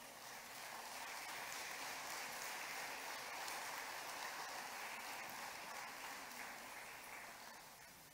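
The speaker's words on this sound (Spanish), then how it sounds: "Puede darle palmas al Señor." A church congregation claps together in praise during a Spanish-language service, with a continuous, diffuse wash of many hands sounding distant and soft throughout.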